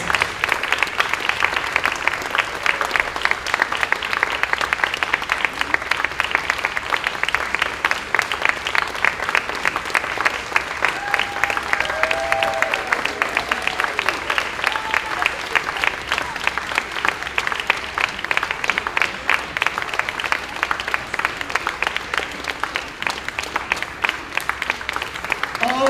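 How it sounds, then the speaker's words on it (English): Sustained, loud applause from a school audience for a 5th grade chorus at Harrington School's spring concert, continuous dense clapping for nearly half a minute with a few brief cheers rising above it midway. "Let's give them a big round of applause for their very last concert here at Harrington School"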